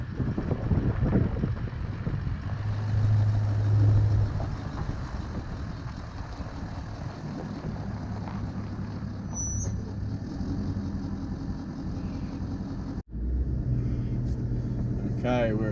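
A vehicle towing a boat on a trailer rolls along the road, a steady low engine and road rumble with wind buffeting. A person talks over it throughout, and there is a brief dropout near the end.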